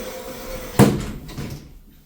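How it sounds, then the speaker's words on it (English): Lift doors closing at a shopping and office complex, a sudden sliding thud that settles into a fading rumble over about a second, close and alone with no talk. "Doors closing."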